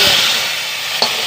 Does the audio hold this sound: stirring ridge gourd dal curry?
yes